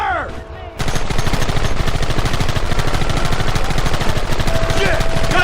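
Rapid, sustained gunfire from a shootout in the PC game Red Dead Redemption. It starts abruptly after a brief quieter moment, then a dense, loud stream of close shots and overlapping automatic bursts continues without a break.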